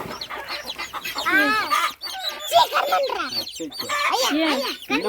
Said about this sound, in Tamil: நாலு ஆறு எத்தனை குஞ்சு பொறிச்சிருக்கு